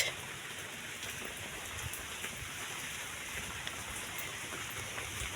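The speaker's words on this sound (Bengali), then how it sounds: "কাদা রাস্তায়, এতটা বৃষ্টি পড়ছে।" Heavy monsoon rain pours steadily onto a muddy village road near flowering shrubs, a dense, even hiss with scattered close drips and no speech.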